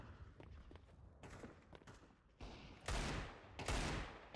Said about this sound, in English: there's a bit of a delay in between each shot